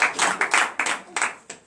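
A church congregation at a morning prayer service in Benin claps and cheers in short bursts, several separate swells of applause in under two seconds, fairly close and lively.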